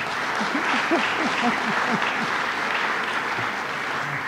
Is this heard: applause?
yes